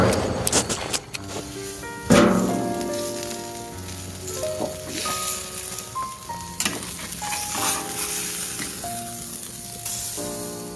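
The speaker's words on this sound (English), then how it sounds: "A little butter on there for flavor." Butter sizzling on beef ribs on a Blackstone flat top griddle, a loud bright crackling sizzle with bursts and spatters and a few scraping touches, lasting throughout with no talk.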